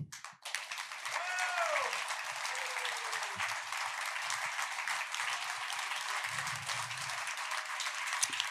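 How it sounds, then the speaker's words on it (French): Audience applause at a live talk-show evening in a lounge venue: clapping starts abruptly and continues as a steady, dense patter at moderate level, with a few faint voices and whoops underneath. "Sous vos applaudissements"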